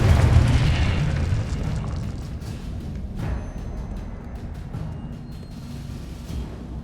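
A Confringo blasting spell explodes in the Hogwarts Legacy video game, a loud deep boom at the start that rolls off into a long rumbling decay with faint scattered crackles.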